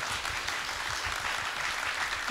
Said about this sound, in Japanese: 皆さん拍手でお願いします。